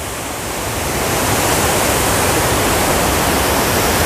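Saidhara waterfall at Jharigaon, Umerkote, Odisha pours with a loud, dense, unbroken roar of rushing water that swells slightly in the first second, then holds steady and close.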